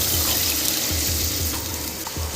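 A mug of water poured into simmering catla fish curry in a pan, a continuous close splashing, gurgling pour with soft rhythmic pulses, heard alone with no voices.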